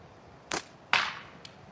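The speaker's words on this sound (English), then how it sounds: "Shooting better than I thought I would with a natty and longer draw" An arrow shot from a natural wooden bow with a long draw, a sharp release snap followed by a louder thwack of impact, then a faint later tick, close and without talk.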